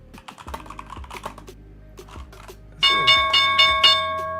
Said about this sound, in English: there's the opening bell, chat